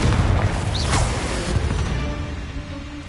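Spell blasts from Confringo in the video game Hogwarts Legacy: a loud, booming burst with a whooshing sweep near the start, then a rumbling tail that fades over a few seconds, with no talk.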